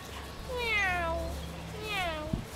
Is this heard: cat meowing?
yes